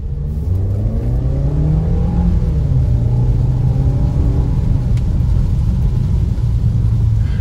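A 2017 Suzuki SX4 S-Cross with automatic transmission accelerates hard on kickdown, its engine note rising steadily in a loud, continuous drone and rumble that holds close for several seconds.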